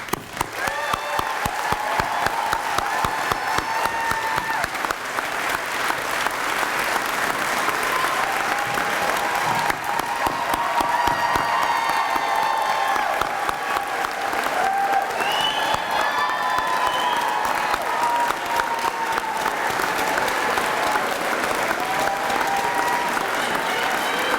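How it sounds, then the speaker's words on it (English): Graduation audience at the Brandcenter ceremony giving a sustained round of applause: loud, dense clapping from a large crowd that holds steady throughout, with faint cheering mixed in. "just give you a round of applause and say congratulations"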